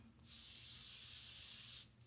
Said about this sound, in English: I'm going to spray my belly